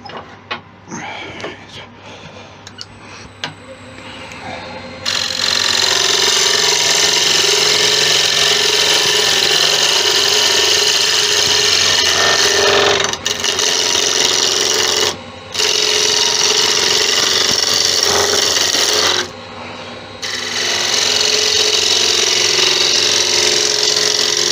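A woodturning lathe cuts pine construction timber in a workshop: after a quiet start with small knocks, a loud, harsh, steady cutting whir runs in long stretches, broken by a few brief pauses.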